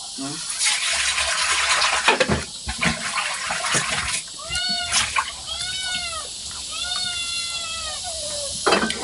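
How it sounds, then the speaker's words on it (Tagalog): A cat meows noisily several times in a row, close up, having smelled fish, over running water and clattering sounds in the background. "Si Miming nakaamoy ng isda, kaya ang ingay-ingay"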